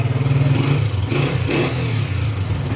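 A Honda 125 motorcycle engine idling with a steady rhythmic putter, revved up a couple of times, close and fairly loud.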